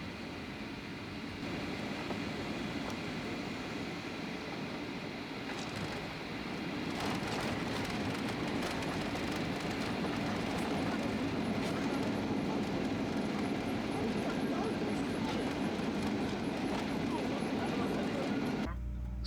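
Jet airliner cabin noise as a Jeju Air plane rolls to its parking stand after landing in rain in Korea, a steady broadband rumble of engines and wheels that swells slightly midway and then cuts off abruptly at the end.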